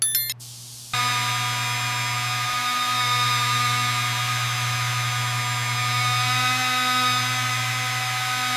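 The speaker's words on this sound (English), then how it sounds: "I'm ready to hit this panel with the yellow pad." A polisher with a yellow pad cuts a car body panel on a burnt Bugatti Chiron, a steady loud motor drone with a constant high whir running uninterrupted after a brief spray-like hiss at the start.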